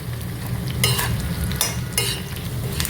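Curry leaves and onions fry in hot oil for Chinthamani chicken, giving a steady, close sizzle broken by several bursts of scraping as the pan is stirred.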